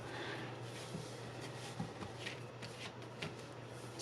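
A deck of playing cards being handled in a false cut sequence, with the bottom of the pack moved to the top and cut back; soft, quiet riffling and snapping of cards close up, with no talking.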